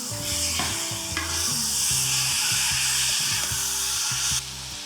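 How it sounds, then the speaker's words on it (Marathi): Washed, drained Surti Kolam rice being sautéed in a hot tempering hisses with a steady, close sizzle under a low repeating hum, with a faint stir or scrape now and then and no talk. "छान परतून घेऊयात"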